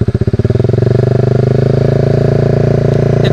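Honda Sonic 150 motorcycle fitted with a CLD Racing aftermarket exhaust, held at a steady rev of about 4000 rpm: a loud, close, throbbing engine drone with a fast, even pulse, heard alone.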